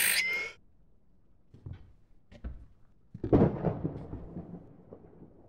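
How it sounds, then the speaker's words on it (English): Thunder rumbles outside a boarded-up room in the horror video game Suite 776, with low, faint rolls and a sharper crack that fade out, and no voices. "It sounds like it's thundering outside."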